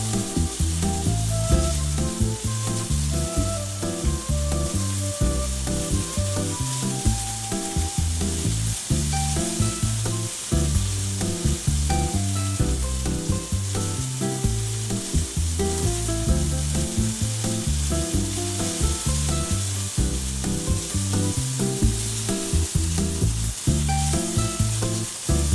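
A flat iron steak fries in a hot pan with a steady, dense sizzle and crackle that persists throughout, close and loud with no voices.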